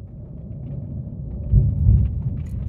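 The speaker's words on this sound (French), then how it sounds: "Je ne sais pas si vous entendez le tonnerre." Thunder rolling during a thunderstorm, a low, distant rumble that swells noticeably partway through, with deeper heavier bursts near the end and no voices.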